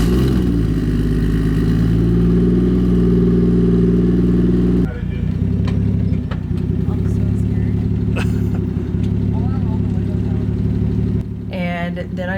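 Toyota 1JZ VVTi engine running in a Lexus SC400, a steady close idle rumble that holds, then drops into a slightly rougher idle with small clicks and clatter over it.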